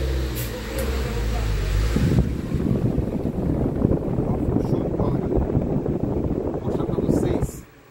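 A Mallory electric fan runs after being switched back on, giving a steady low rumbling whoosh close to the microphone that starts after a brief clunk and holds for several seconds before cutting off near the end.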